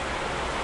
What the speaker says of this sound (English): it just started pouring rain out of nowhere